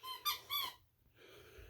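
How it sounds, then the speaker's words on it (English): A dog gives a couple of short, high-pitched squeaks close by indoors, followed by quiet. "Don't mind the squeaking, that's just the dog."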